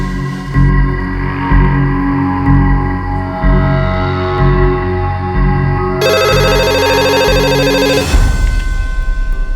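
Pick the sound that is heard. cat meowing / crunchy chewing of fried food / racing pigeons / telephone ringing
telephone ringing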